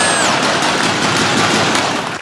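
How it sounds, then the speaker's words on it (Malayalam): A gun salute fired into the sky by NCC cadets at a mock funeral: a loud, dense burst of rapid gunfire rattles on without a break for about two seconds, with no voices. "എൻ സി സിക്കാർ ആകാശത്തിലേക്ക് വെടിവെക്കും"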